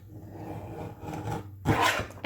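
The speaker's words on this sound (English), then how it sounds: "So I'm gonna go ahead and finish trimming the bottoms off." The borders of tarot cards from the Black Moon Astrology deck are trimmed, giving a soft, close rasping and rubbing that ends in a brief, louder scrape or cut, with no speech.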